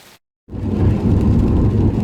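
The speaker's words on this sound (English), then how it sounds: "we've had lots of rain again this week, and it's continued overnight and into today" Steady heavy rain roars outside a cabin during a storm, a dense broadband wash that cuts in after a brief silence and holds loud and continuous, with a low rumble underneath.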